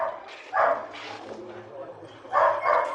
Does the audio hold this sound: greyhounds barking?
yes